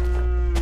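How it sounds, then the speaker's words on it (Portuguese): A Minecraft cow gives one short, close, loud moo, a steady low bovine drone lasting under a second with no other sounds around it. "Uma vaca."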